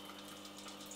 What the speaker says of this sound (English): these tanks will fill up with water. Obviously a bit faster than this, but for now we have a fish tank pumped.